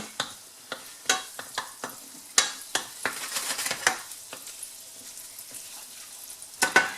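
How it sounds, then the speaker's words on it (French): Butter melting and sizzling in hot oil in a stainless steel pan, with a steady close frying hiss broken by sharp clicks and scrapes of stirring throughout. "L'huile commence à être bien chaude, j'incorpore le beurre."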